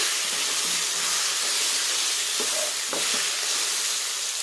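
Grated mango is stirred in a frying pan, producing a constant close sizzle and hiss with a few soft scrapes from the spoon.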